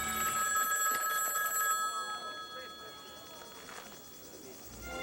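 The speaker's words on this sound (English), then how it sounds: "the legend of the ringing phone would never end" A telephone bell rings with a shrill tone at the start, then fades under quiet background noise while the ringing trails off.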